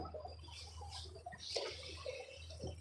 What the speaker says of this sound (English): You can listen to the water.